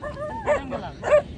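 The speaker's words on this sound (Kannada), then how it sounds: "ನಾಯಿ" A dog with travelling shepherds on a sheep-grazing route gives two short, yelping barks close by, with a thin whining sound just before them.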